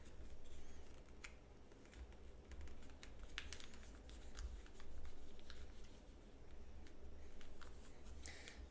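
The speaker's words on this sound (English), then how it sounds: "I'm going to fold it a little bit past it." Origami paper for a spring flower being folded and creased close by, with soft crinkles and light scraping taps coming in short bursts over a faint low hum.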